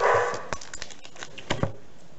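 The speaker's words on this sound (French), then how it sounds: "Et maintenant, vous entendez des chiens aboyer." Dogs barking indoors in a house, a few short sharp barks in two brief clusters, moderately close, with quieter movement between them and no talk.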